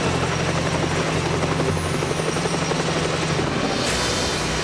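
A rescue helicopter hovers while lifting two workers, giving a loud, steady rotor drone with a constant thrum that stays close throughout.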